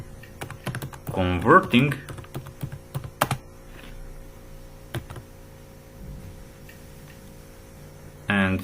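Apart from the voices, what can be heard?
typing code on a computer keyboard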